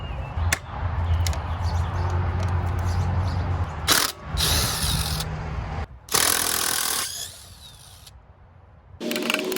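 Wire cutters bite through a corroded ground wire at an exterior electrical subpanel, giving a few sharp, close metallic snips and clacks between quieter stretches of handling noise.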